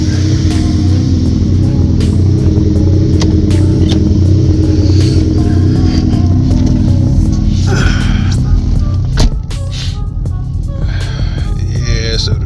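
A car engine idles loudly and close with a steady low throbbing hum, a few clicks and knocks over it, and a slight dip near the end.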